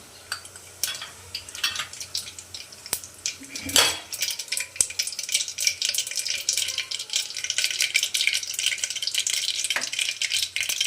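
Mustard seeds and cumin fry in hot oil in a pressure cooker for an okra and potato sabzi, a dense crackling sizzle with scattered pops and a metal clatter near the start, close and steady.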